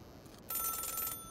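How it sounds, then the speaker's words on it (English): A telephone rings in the video game Celeste, a bright electronic trill starting about halfway through and sounding for well over half a second before cutting off, clear and alone over a quiet background. "Phone ringing."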